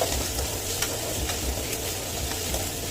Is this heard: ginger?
yes